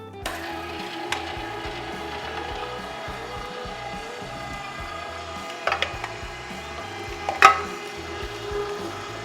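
Meat grinder working turkey and pork fat, a continuous mechanical churning drone with rapid rhythmic clatter and occasional louder knocks as chunks are fed in.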